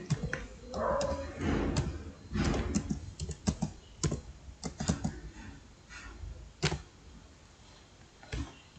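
Fast, irregular clicking of keys on a computer keyboard as a library database name is typed, bursts of keystrokes close and moderately loud with no one talking.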